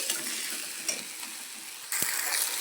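Leftover chapati pieces fry in a pan with oil and tempering, a steady close sizzle with stirring scrapes and one brief clank near the end.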